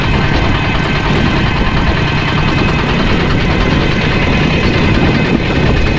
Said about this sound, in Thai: มื้อนี้มาลองรถไถใหม่